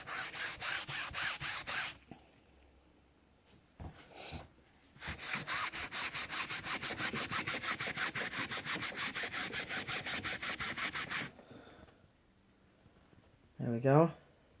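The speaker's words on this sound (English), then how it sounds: "the magic eraser is going to help pull that right out for you." Magic eraser scrubbed hard over a vintage suitcase to lift dirt, long stretches of loud, rhythmic back-and-forth rubbing with short pauses between, close up.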